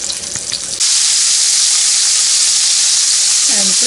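Steaks sear loudly in a hot pan for Swiss steak, a sudden burst into a dense, roaring sizzle that holds steady, with a brief clatter before it starts.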